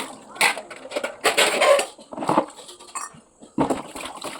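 Metal worship utensils are washed by hand, with bursts of clinking and clattering against each other, rattling and splashing at close range and pausing between handfuls.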